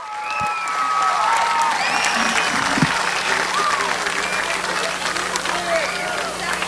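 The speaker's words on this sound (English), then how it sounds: "How about another big round of applause as we get ready for our fireworks?" Steady crowd applause with some cheering fills a speedway grandstand, loud and continuous throughout, with faint voices mixed in.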